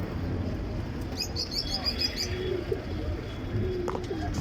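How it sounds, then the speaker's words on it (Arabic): Pigeons coo and chirp in a loft during a sale of mixed colored domestic pigeons, soft repeated calls over steady background noise, with someone talking faintly. "ده بقى فرد حمام من البيبان القديمه بقى"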